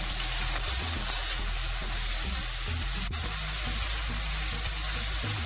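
Coarsely ground garlic and onion fry in hot oil in a pan for a Pakistani spicy chicken dish, a steady close hiss and sizzle that holds even throughout.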